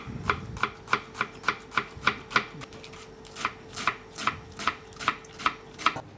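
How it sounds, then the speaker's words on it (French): A knife cuts endive into fine julienne, tapping rapidly and evenly on a cutting board, about two to three crisp chops per second, close and clear with no talking. "ensuite on coupe cette endive en julienne, très fine"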